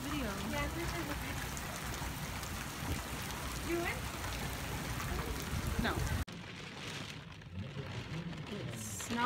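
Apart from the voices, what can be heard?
rain falling at an outdoor powwow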